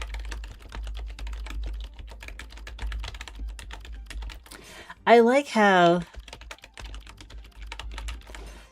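Rapid clicking keystrokes on a computer keyboard while playing a typing game, a fast continuous patter of close taps that briefly pauses as someone speaks a few words.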